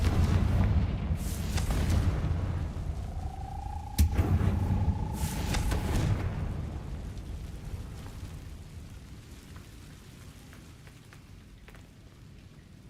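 Confringo blasting-spell explosions in the Hogwarts Legacy video game: several heavy, booming blasts with rolling rumble over the first six seconds, then a quieter lingering ambience with no talk.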